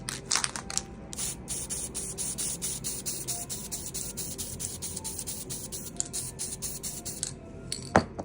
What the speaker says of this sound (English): with the enamel-based white spray paint, it does curl a little bit